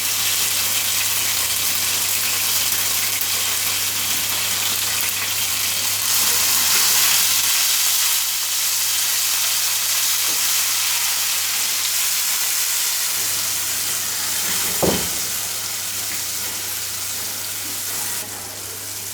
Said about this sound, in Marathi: गॅस लो करूया आणि ही पेस्ट आहे ना अद्रक, लसूण, कोथिंबीर, मिरचीची ती तेलात टाकूया।